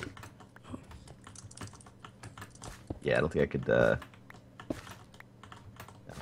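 Laptop keyboard being typed on during a Minecraft UHC game, quick faint clicking keystrokes throughout, partly under a short stretch of nearby talk.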